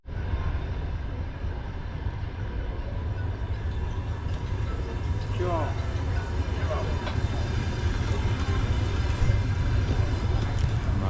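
A night train pulls into a railway station in Azerbaijan, its steady low rumble and rolling wheel noise filling the platform continuously, with faint squeals and clanks on top.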